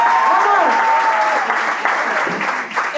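Loud close applause from a studio audience welcoming comedian Henar Álvarez onto a comedy talk show, continuous clapping with voices and whoops audible over it.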